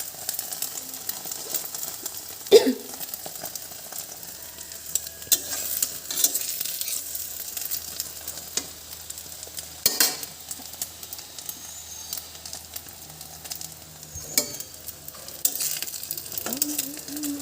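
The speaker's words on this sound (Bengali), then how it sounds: "তো ডিম ভাজাও হয়ে গেছে" An egg fries in a pan with a soft, continuous sizzle, broken by occasional scraping and clinks of a spatula turning it, plus a few faint background sounds.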